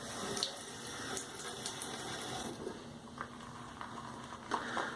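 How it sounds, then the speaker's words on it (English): Water runs steadily from a tap during head-shave grooming, a continuous soft hiss and splash at low level with a few small clinks, no talk. "So let me add just a little more water here."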